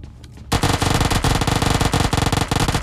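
Rapid automatic weapon fire in PUBG Mobile Lite, starting abruptly and continuing as a loud, dense stream of closely spaced shots for a few seconds with no talking.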